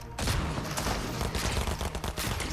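Shotgun blasts in Fortnite, a rapid string of loud, sharp reports in quick succession that crowd together over a busy game backdrop, close and punchy.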